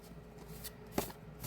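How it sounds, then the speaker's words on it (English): A deck of cards is shuffled once in a quick riffle, the flutter close and fairly soft against a quiet room background. "I'm going to shuffle the deck."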